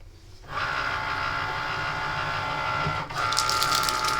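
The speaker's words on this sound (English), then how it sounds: "If you have an Explore machine, just use your stylus. And we're going to let that score." A Cricut Explore cutting machine scores paper with a stylus, giving a steady mechanical whir and hum that starts after a brief quiet moment and shifts in tone partway through as the carriage moves.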